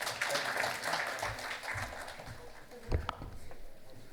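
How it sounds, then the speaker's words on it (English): Applause at a national convention of insolvency professionals and registered valuers, a moderate crowd clapping in a continuous wash, tapering and uneven toward the end with a few louder bumps. "Please give a big round of applause"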